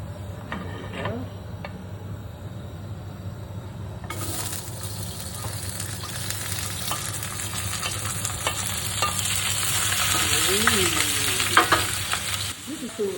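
Rib beef and onions pre-fry in a pan as a loud, steady sizzle with repeated utensil scrapes and clinks, the frying swelling brighter after a few seconds; a brief voice murmur sounds near the end.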